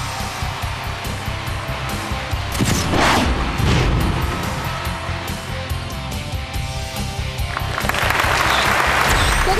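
A studio audience at a televised family comedy show breaks into sustained, loud applause with dense clapping, swelling briefly in the middle and again near the end.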